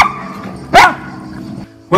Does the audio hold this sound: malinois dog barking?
yes